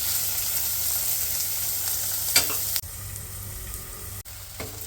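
A medium tomato sizzles in a covered pan, a steady frying hiss with a couple of sharp clinks and brief drops in level, and no voices.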